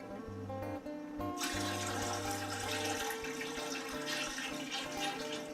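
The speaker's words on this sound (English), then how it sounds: "So here goes in our hot brine." Hot brine pours into a container for curing a Christmas ham, a steady close rushing splash of liquid that swells as the pour gets going and continues over a background hum.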